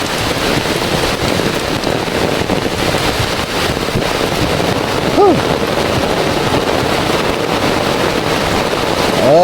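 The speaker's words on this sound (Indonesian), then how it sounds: "hujannya sangat deras sekali ya, sama angin lagi ya teman-teman ya" Heavy rain pours steadily in a coastal village, a loud unbroken hiss of drops drumming on surfaces with gusts of wind mixed in, and a faint voice surfaces briefly near the end.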